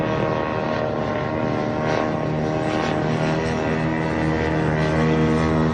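Attack drone engine with a steady, droning propeller buzz like a lawnmower or chainsaw, loud and continuous throughout with no talking.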